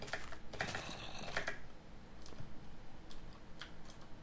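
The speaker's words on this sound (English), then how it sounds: "Apologize for my desk keyboard making all that noise." Rapid clicking keystrokes on a desk computer keyboard, a dense burst of typing early on that thins into scattered taps, close and clear with no voices.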